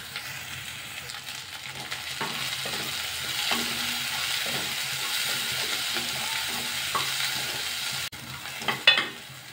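Horse gram and onion frying in a pan over medium flame give off a steady close sizzle, with light stirring scrapes and a few clinks near the end.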